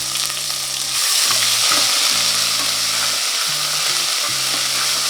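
Hot oil sizzles and crackles steadily as cinnamon and cloves fry for mutton gravy, loud and close, while a low voice murmurs underneath.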